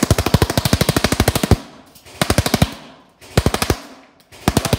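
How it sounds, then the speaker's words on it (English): A Cyma airsoft AEG, an SI47 set to full auto, fires three rapid bursts of sharp, evenly spaced mechanical shots at close range, with brief pauses between bursts and no talk. "we're going to put it into full auto now and see how it performs on full auto"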